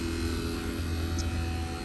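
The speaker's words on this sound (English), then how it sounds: "I got the vacuum pump going." A 10 CFM BPX7 vacuum pump runs steadily for an HVAC micron gauge decay test, making a constant low droning hum with a faint buzzing edge and no pauses.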